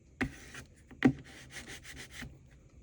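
Paper being burnished by hand for a junk journal binding, close soft rubbing strokes with two sharper taps and then a quick rhythmic series of short rubs, quiet, with no talking.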